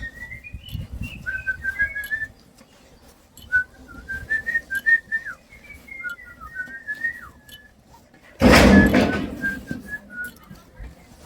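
A person whistles a wavering, melodic tune at moderate loudness over a low background rumble, pausing between phrases, with a loud broadband burst near the end before the whistling resumes.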